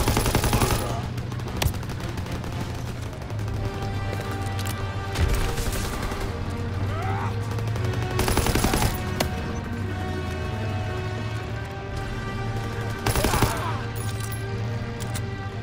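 Tank machine gun fire and gunfire in the video game Call of Duty: WWII: steady bursts of automatic fire under a constant low rumble, with several sharp, loud shots standing out, and some talk mixed in.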